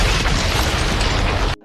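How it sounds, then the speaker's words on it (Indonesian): A Tiger tank is blown up in a loud, dense explosion, a sustained rumbling blast that fills the sound for over a second before cutting off abruptly. "tank yang kedua akhirnya berbelok arah dan berhasil mereka ledakan"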